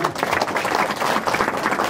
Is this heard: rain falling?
no